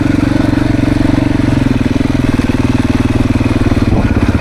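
Beta dirt bike engine on a demo ride on a woods trail, running loud and close with a steady, throbbing mid-range drone that holds even throughout and shifts slightly near the end.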